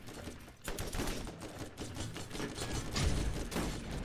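Enemy gunfire in the shooter game Borderlands, a dense, steady rattle of rapid shots and impacts continuing throughout at moderate level.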